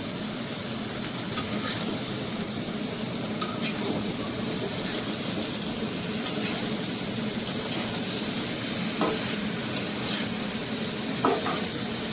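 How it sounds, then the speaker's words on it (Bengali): Shrimp sizzle steadily as they are sautéed in a pan, with occasional stirring clinks and scrapes against the cookware close by. "চিংড়ি মাছটা কষানো হচ্ছে।"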